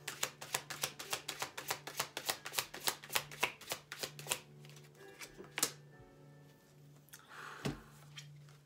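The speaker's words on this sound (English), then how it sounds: "I'm going to pull one healing card for you." Tarot deck shuffled by hand, a quick run of evenly spaced crisp riffling slaps close up, then scattered softer card handling and a faint voice.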